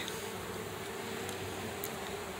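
Honey bees buzzing at the hive entrance as foragers bring in fresh pine propolis, a dense, steady drone close by with occasional louder passes of single bees and no talking.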